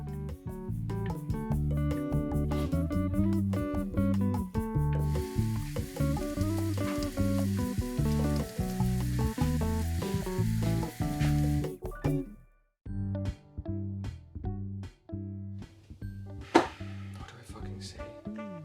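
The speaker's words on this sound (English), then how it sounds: "grab yourself a nice bowl of potato mix and just put it on the oil and just spread it with your spatula" Potato pancake mix for Kartoffelpuffer hits hot oil and is spread with a spatula, making a steady hissing sizzle that sits under loud, prominent music and cuts out partway through.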